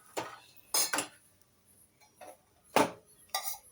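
A spatula scraping and clinking against a pan and plate as an egg omelet is served, five short metallic taps and scrapes spaced apart against near silence.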